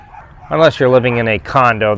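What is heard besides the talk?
dogs barking in the background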